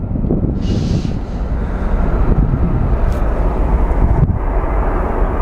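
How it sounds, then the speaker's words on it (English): A Southwest airliner taxis back toward the gates at Phoenix Sky Harbor. A steady, heavy engine rumble carries under wind buffeting on the microphone, with a brief hiss near the start. "here comes our taxiing Southwest as it's making its way back to the gates"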